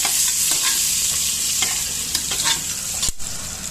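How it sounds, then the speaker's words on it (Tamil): Fenugreek, cumin, garlic and dried red chilli tempering sizzle steadily in hot oil with a close, continuous frying hiss, a few spoon stirs and clinks breaking through, no voices. "வெந்தயம் சீரகம் நல்லா பொரிஞ்சிருச்சு"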